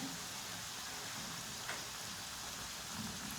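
Gol gappa puris made with semolina deep fry in oil over medium heat, giving a constant dense bubbling hiss at low level throughout, with no break or change.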